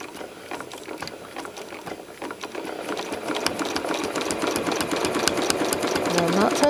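A sewing machine stitches crosshatched quilting lines around an appliqué in rapid, steady needle clicks that grow denser and louder, with a voice speaking over the stitching.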